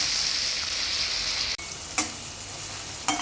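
Tomato, onion, salt, turmeric and asafoetida sizzle steadily as they cook down in a pan for a puffed rice snack, a continuous close frying hiss broken by a couple of short clicks from stirring.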